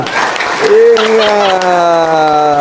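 Audience applause at an Indonesian Islamic religious talk, a dense burst of clapping that starts up under a voice as he keeps talking over it.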